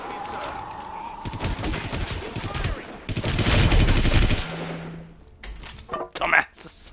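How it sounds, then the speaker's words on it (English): Gunfire in the video game Hitman Absolution: a few loud single shots followed by a long, harsh burst of automatic fire, then a short metallic ring and scattered thuds. "heard a gunshot"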